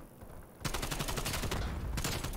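AK rifle gunfire in a first-person shooter video game, a loud rapid burst of automatic shots after a brief quiet start, continuing nearly unbroken with a short dip before resuming.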